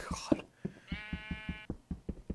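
A single sheep bleat with a quavering, nasal tone, heard amid a steady run of soft rhythmic thumps like footsteps.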